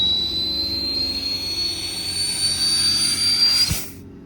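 Air compressor on a 2011 Ford F550 IMT service truck runs with a steady whining mechanical drone and tonal hum, loud and close, then cuts off abruptly near the end, leaving silence.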